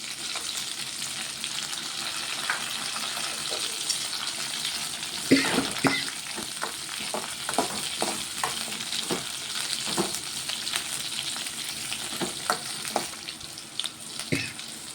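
Green chillies fry in a pan alongside onions and cumin seeds for a pachadi, giving a steady close sizzle with a run of sharp spoon scrapes and clicks from stirring in the second half.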